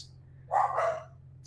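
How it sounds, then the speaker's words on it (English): A dog barks once or twice in a short burst over a low steady hum in a quiet room, otherwise near silence. "Sorry about the dogs in the background."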